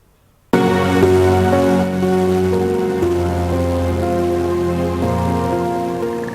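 Steady, dense rain falls continuously during days of monsoon downpour that flooded streets in Kasur, Pakistan, starting abruptly and holding a loud, even hiss with a low hum underneath.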